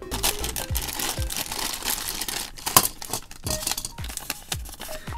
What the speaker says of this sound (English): Let's tear into it